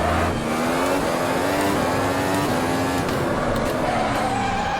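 A Formula 1 car in the Automobilista racing game screams at high revs, its engine pitch stepping down through the gears in a loud, continuous whine close up with no pauses.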